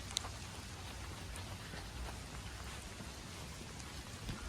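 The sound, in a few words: rain falling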